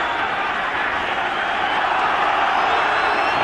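A large rugby crowd at the 1991 World Cup match between England and New Zealand gives off a dense, continuous roar that holds steady and loud throughout, with no distinct claps or shouts standing out.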